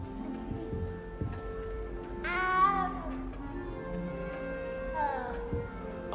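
A small frightened cat meows twice, one long rising-falling cry near the middle and a shorter one later, heard close over a low background hum without speech.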